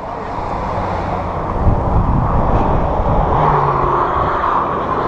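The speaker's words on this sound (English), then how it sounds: "It's a Lamborghini." A Lamborghini passes along a road near the A69 by Hadrian's Wall, its engine a low roar that swells and fades under wind noise on the microphone.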